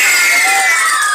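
Children and guests at a sixth birthday party cheering and shouting together, a loud close burst of high excited voices.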